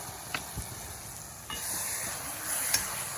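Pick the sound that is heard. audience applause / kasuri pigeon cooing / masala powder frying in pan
masala powder frying in pan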